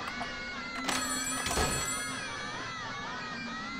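A phone rings inside the video game Kindergarten, a repeating electronic tone heard clearly and alone over a low steady background hum, with a couple of brief louder bursts near the start.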